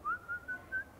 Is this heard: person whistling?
yes